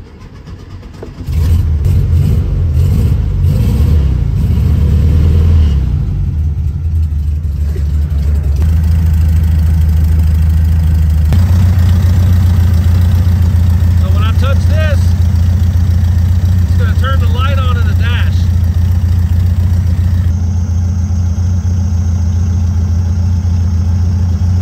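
A cold VW Beetle engine cranks and catches, then settles into a steady, loud idle with a low rumble that continues throughout.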